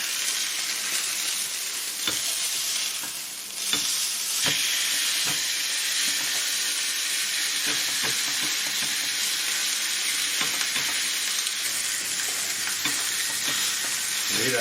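A thick côte de bœuf sizzles on a hot grill, a steady bright hiss and crackle of fat that stays close and loud throughout, with occasional soft shifts and no talking.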